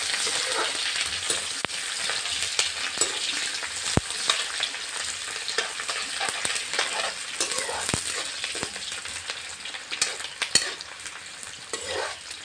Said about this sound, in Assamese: পিঁয়াজখিনি এতিয়া ৰঙচুৱা হোৱালৈকে ভাজিম।